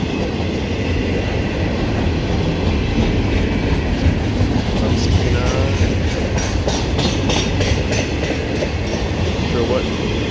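An old CSX maintenance-of-way freight train, including a Seaboard Coast Line gondola, rolls past close by with steady heavy rumble and rhythmic wheel clatter over the rails, loud and continuous throughout.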